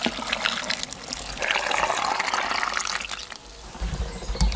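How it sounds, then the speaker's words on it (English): Salt brine poured from a container over pickles in a jar, a steady close gurgling splash of liquid filling the vessel for several seconds, rising in pitch as it fills, with no talking. "And I'm just gonna pour it over my pickles."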